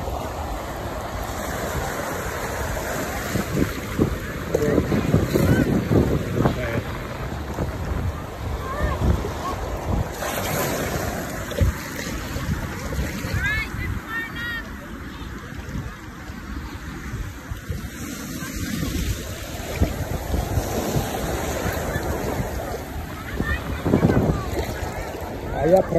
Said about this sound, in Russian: Хорошенькая волна.